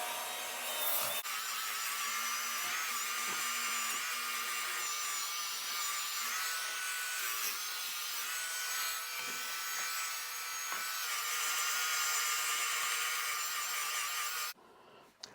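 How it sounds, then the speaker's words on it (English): A Work Sharp belt sharpener fitted with a 150 grit belt sands a hatchet handle, giving a loud, steady, unbroken abrasive whir with rough rubbing for about fourteen seconds before it cuts off abruptly. "I'm going to use my Work Sharp knife sharpening system with a 150 grit belt in it, and I'm going to go ahead and sand it"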